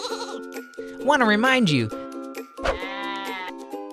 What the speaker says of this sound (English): and these adorable sheep